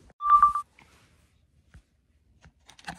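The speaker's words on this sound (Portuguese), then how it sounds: "Na verdade, Brad, liga pra ele no seu telefone aí." A quick burst of three phone keypad dialing beeps comes first. Faint clicks and handling noise follow, then a brief muffled sound near the end.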